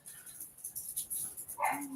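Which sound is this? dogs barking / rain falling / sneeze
dogs barking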